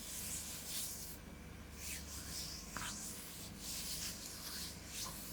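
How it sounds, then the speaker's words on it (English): Close, soft rubbing of hands being massaged, a breathy friction sound repeating in slow, even strokes with brief pauses between them in a quiet room. "a few sounds that I think sound nice, like hand rubbing, kind of like hand massaging"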